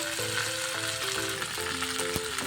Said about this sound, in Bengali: হলুদ দিয়ে দেব এবার একটু ভেজে নেব